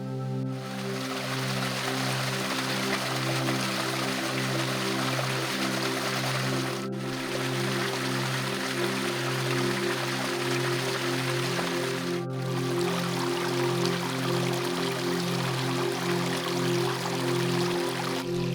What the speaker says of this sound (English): so you can at least see the waterfall